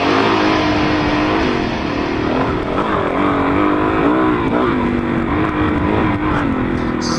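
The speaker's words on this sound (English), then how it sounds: "This is my my DRZ 400S." A 2004 Suzuki DRZ 400S dirt bike with an airbox mod rides a trail. Its engine drones loud and close with rising and falling revs and wind noise, and a voice speaks faintly beneath it.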